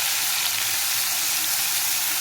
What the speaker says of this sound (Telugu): ఆయిల్ వేడవాక పచ్చిమిరపకాయలు వేసుకోవాలి